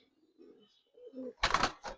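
Gribaj pigeon giving two soft, low coos close by, followed by a sudden loud burst of rustling like wing flaps or handling.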